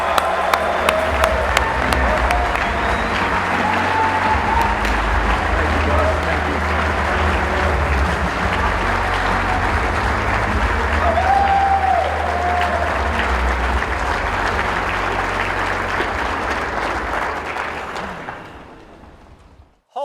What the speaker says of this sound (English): Roaring applause for your next speaker, Mr. Chad Wright.